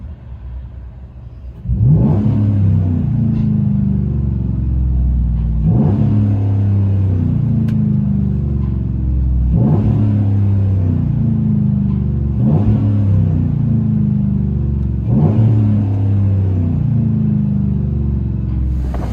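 Cabin view of a 2011 Chevy Avalanche 5.3L V8 with a 6-inch tip and Carven Type R bottled muffler, a deep steady exhaust rumble with five repeated revs swelling and falling at even intervals.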